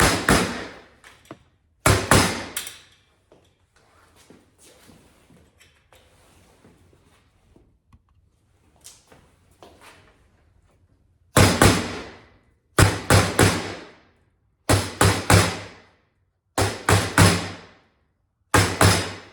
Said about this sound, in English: So I have it right on top of the metal spline here, tapping it in, not super hard.